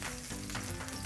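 Ginger and garlic sizzle steadily in hot oil for a Malay-style fried prawn dish, a dense close-up crackle with no talk over it.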